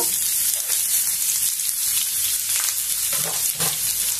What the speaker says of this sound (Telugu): ఇట్లా ఉల్లిపాయ ముక్కల్ని కూడా వేసేద్దాము.